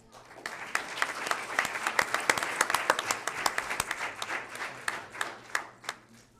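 An audience at a school board meeting applauds its students, a steady burst of many hands clapping that swells quickly, holds for several seconds and then thins out as the clapping tapers.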